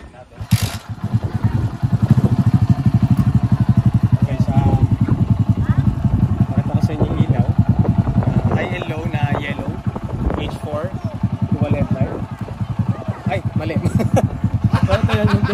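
TVS XL100 moped engine kick-started, then idling steadily and close by with a dense, even putter that runs through the whole stretch, while someone talks over it.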